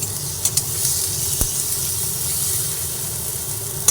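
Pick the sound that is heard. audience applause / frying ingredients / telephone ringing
frying ingredients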